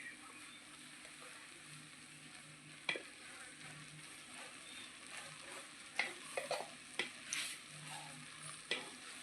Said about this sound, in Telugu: ఎండు కొబ్బరి కిస్మిస్ ఇవన్నీ వేపుకుందాం.